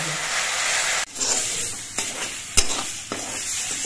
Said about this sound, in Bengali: এভাবে আস্তে আস্তে জাল দিয়ে পাতাগুলোকে বেশ কিছুক্ষণ ভেজে নিতে হবে